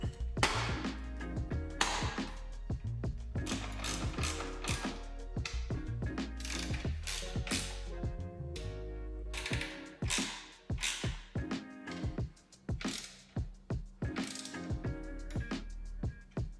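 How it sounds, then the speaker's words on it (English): A ratchet drives and tightens the front and rear cover screws on a LiveWire S2 Del Mar electric motorcycle, giving dense, close clicking bursts with short pauses between turns throughout. "I'll be tightening all of the front and rear cover screws to about 50 to 55 inch-pounds."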